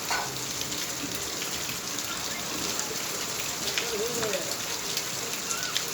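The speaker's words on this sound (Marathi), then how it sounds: "अजून पाऊस चालू." Steady rain pours down outdoors in a rural farming area, a dense, even patter of drops on surfaces that holds at constant loudness throughout.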